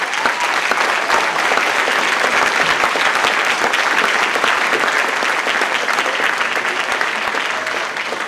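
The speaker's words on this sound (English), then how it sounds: "please, a round of applause for both candidates" Audience at a Bristol mayoral forum applauding both candidates, a loud, dense and sustained round of clapping that fills the room for the whole stretch.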